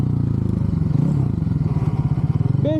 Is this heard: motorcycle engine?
yes